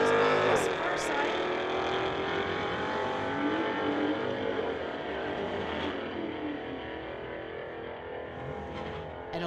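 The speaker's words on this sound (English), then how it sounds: "We've got the Audi on the inside, Mercedes on the far side." An Audi and a Mercedes street car drag race down a strip, engines revving hard with rising and falling gear-change tones as they pass, loud and continuous, with a voice talking over the noise.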